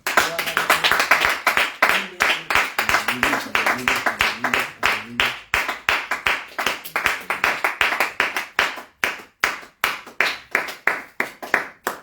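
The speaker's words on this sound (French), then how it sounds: "Est-ce que nous pouvons acclamer le roi des rois?" Church congregation clapping in acclaim of the king of kings during a French-language worship service, a dense rhythmic burst of applause that thins into steady, evenly spaced group claps with some background voices.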